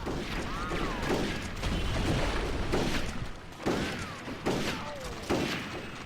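Explosions and gunfire in the Red Dead Revolver game: repeated dull thumps and bursts land every second or so over a dense, continuous background rumble, with faint whistling tones drifting through the mix.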